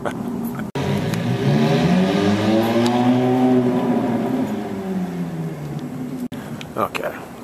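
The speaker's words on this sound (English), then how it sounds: "I hear a Ferrari idling." A Ferrari with baffles fitted to its exhaust and a diverter on the outlet idles loudly nearby with a steady, rumbling tone, then its pitch rises and falls as it pulls away, with a brief click near the end.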